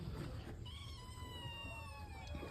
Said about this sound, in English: Let's feed these cats. They're hungry.